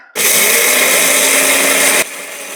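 A grain mill grinds hard red spring wheat into flour, a loud, steady, high-pitched whirring roar that starts abruptly, runs continuously for about two seconds, then cuts off to a lower motor hum.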